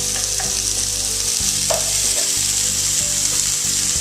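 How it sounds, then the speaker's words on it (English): Two cups of yellow onions browning in a pan over medium heat, giving a steady, loud, dense sizzle throughout with a few faint clinks of a utensil. "we're just going to brown these until they're soft and golden brown"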